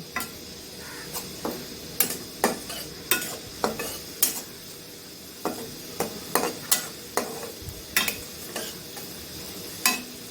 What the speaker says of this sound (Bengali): এবার এগুলো একটু ভালো করে ভেজে নেব।